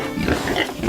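A pig oinks on a farm, its grunts steady and close over about a second, with a dense low rumble of barn noise around it.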